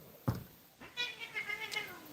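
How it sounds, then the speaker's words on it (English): Cats fighting near a generator under repair: a sharp thump, then a run of drawn-out, wavering yowls and growling cries at moderate distance over a faint background hum, with no talking. "First time I known the cats to fight."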